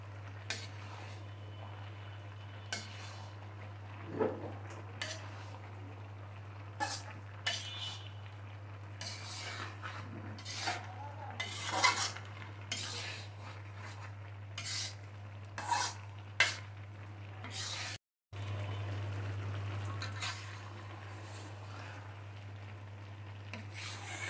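A spoon or spatula scrapes and rubs through olive pickle in a pan in short, irregular strokes, close and fairly quiet over a steady low hum.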